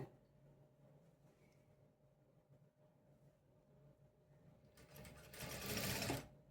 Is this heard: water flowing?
no